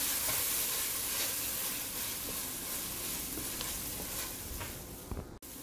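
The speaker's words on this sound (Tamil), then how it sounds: "இஞ்சி பூண்டு பேஸ்ட்டோட ராஸ்மெல் போகிற அளவுக்கு நம்ம வதக்கிக்கலாம்." Ginger garlic paste sizzles steadily as it is sautéed in a pan for vegetable kurma. The frying hiss is loud and continuous, with occasional stirring scrapes and no talk.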